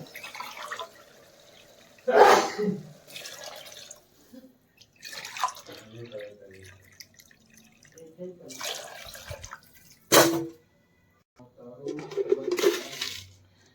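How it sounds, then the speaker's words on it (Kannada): Two glasses of water are poured into a pot of rice for an avarekalu rice bath, arriving as several separate splashing bursts with short pauses between pours. "ಎರಡು ಗ್ಲಾಸು ನೀರು ಹಾಕ್ಕೋತಾ ಇದ್ದೀನಿ ನಾನು"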